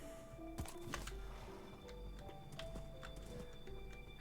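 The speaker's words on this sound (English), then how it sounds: "I finally have a horse." Horse hooves in the video game Minecraft clip-clop in a rapid, irregular series of crisp taps, close and moderately loud, over a faint steady background tone.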